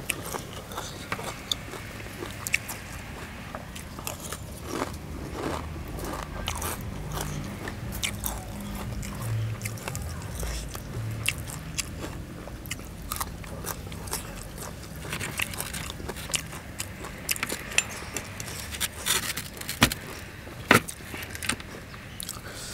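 Close crunchy biting and chewing of large sweet oysters and seafood, with sharp repeated crackles and moist mastication sounds over about twenty seconds, no talking.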